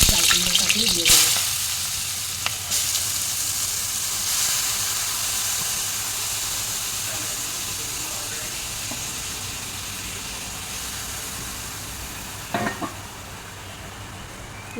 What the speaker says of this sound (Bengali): পরে কালো জিরা ফোড়ন দিয়ে দিলাম, দুটো কাঁচা লঙ্কা, চাল কুমড়া গ্রেট করে রেখেছি, চাল কুমড়াটাকে দিয়ে দেবো।